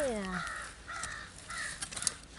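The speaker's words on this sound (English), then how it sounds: "Crows are having a good time over there." Several crows caw outdoors at moderate distance, three drawn calls in a loose rhythm, with a voice speaking over the start and faint outdoor background noise.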